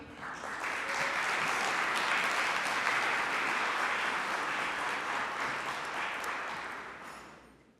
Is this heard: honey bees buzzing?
no